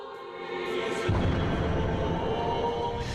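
A deep boom from a missile attack on Kyiv hits about a second in, interrupting a morning church service, followed by sustained low rumbling and dense noise that stays loud to the end.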